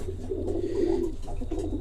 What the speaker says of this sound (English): So you guys may notice there are only 5 birds in here